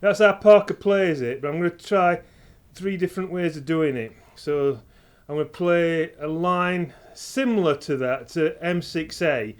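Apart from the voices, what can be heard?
No everyday noise stands out behind the speech.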